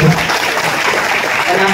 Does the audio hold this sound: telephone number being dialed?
no